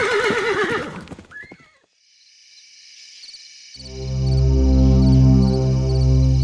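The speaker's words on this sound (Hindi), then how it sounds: "अरे ये घोड़ा पागल हो गया है।" A horse whinnies loudly and alone with a long shaky call, then after a near-silent gap a steady hum with a high chirping layer of crickets or insects rises and holds.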